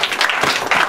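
A congregation at a Pentecostal-style church service claps and cheers together in a brief, dense, continuous burst.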